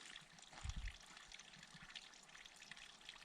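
Spring water trickling out of the ground beside a trail near a cabin, a soft, steady dribble with a brief louder splash early on, faint and close.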